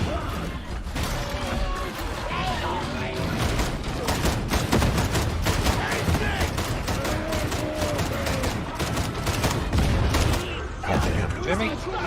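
Rapid autogun fire in the video game Darktide pours into poxwalkers as a dense, continuous stream of loud shots with crashes and impacts, while players talk over it.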